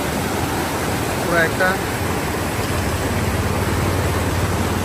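Water coming down a hillside like a waterfall beside the Silchar–Haflong road makes a steady, broad rushing roar that fills the scene, with a brief voice speaking over it.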